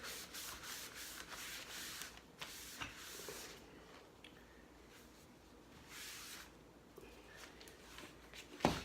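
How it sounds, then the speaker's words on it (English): A cloth with cleaner wipes down a wooden tray, producing soft close rubbing strokes in repeated bursts, fairly quiet, with a brief knock at the end. "I'm just going to wipe it all down."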